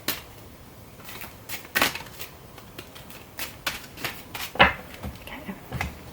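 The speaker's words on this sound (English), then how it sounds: "Just a quick little shuffle here." Tarot cards given a quick shuffle by hand, a series of soft, brief riffling and tapping bursts spread irregularly across a few seconds at close range in a quiet room.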